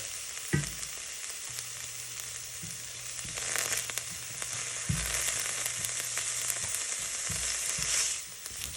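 Onions and bell pepper sizzle steadily in hot oil, a constant crackling hiss with occasional clunks of a utensil against the pan and a low hum underneath.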